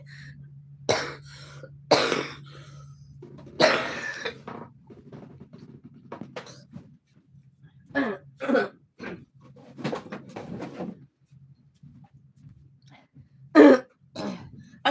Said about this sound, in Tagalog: Ang hirap talaga ng inuubo.